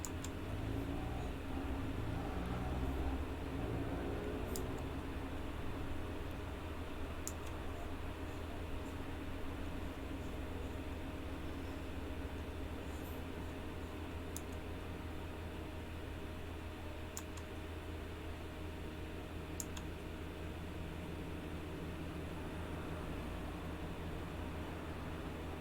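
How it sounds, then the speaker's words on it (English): Class 156 diesel multiple unit in Train Simulator 2019 gives a steady broadband brake rub and rumble, constant and moderately quiet for the whole stretch, with faint periodic clicks and no voices. "there's a nice brake rub going on in this train"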